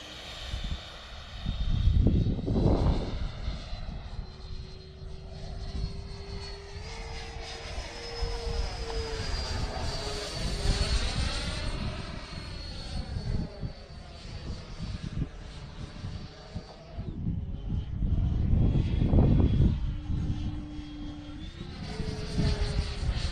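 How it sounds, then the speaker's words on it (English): A Valkyrie 90mm electric ducted-fan RC jet flies past steadily, its high whine rising and falling in pitch as it banks and passes, with louder near swells early and late. "Good flying jet though."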